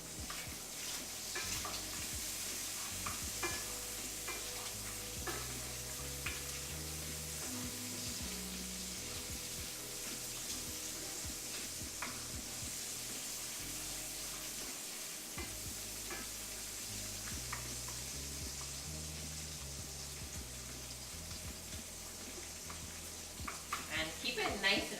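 Garlic sizzling and frying in a pan for a broccoli and cheddar quiche, a steady crackling hiss that runs throughout at moderate level, with occasional stirring clatter and a person talking over it.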